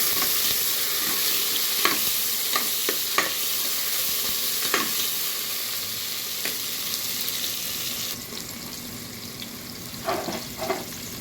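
Onions and green chilies sizzle steadily in a hot pan for a macaroni dish, broken by repeated sharp scrapes and clinks of a spoon stirring, with a brief burst of louder stirring near the end; no voices.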